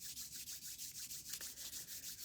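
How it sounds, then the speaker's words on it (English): Palms rubbing briskly together in a steady back-and-forth rhythm, a close, continuous swishing friction with regular pulses and no talk. "Let's rub our hands together."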